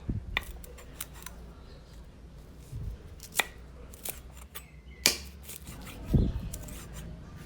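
A knife taps and chops shallots in sparse, irregular strokes on a cutting board, with quiet rustling between cuts.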